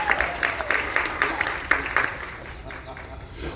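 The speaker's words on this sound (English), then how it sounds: "Just clap for Stanley, everybody" An audience claps for a child named Stanley after a reading, a short burst of fairly loud, scattered applause that tapers off within a few seconds amid background room noise.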